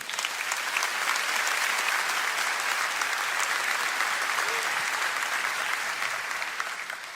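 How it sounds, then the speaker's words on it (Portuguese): Congregation applauding during a church sermon, dense sustained clapping filling the room steadily throughout, fading slightly at the end. "Você pode aplaudir ao Senhor."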